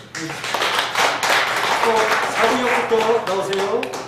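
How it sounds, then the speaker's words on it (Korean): A Korean church congregation claps during a Sunday afternoon service. Moderately loud clapping runs steadily underneath someone speaking. "혹시 바뀌었으면 자, 박수로"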